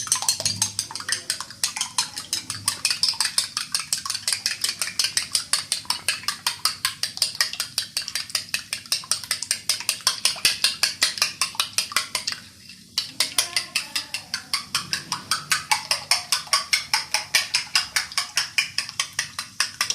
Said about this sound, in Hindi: दो अंडे तोड़ लिए मैंने, इसको अच्छी तरह फेंटना है मैंने, बहुत ही अच्छी तरह।